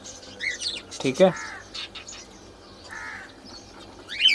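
A breeding cockatiel pair with newly hatching chicks gives scattered chirps and short calls at close range, mixed with someone talking briefly.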